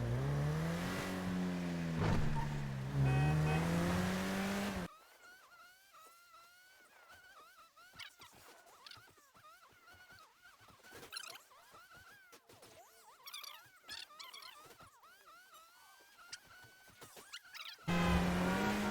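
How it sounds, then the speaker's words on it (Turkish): Car in the video game GTA V driven at moderate volume, with engine and tyre noises and small scattered impacts across the middle, and louder speech at the start and end. "şu an arabaya biniyorum"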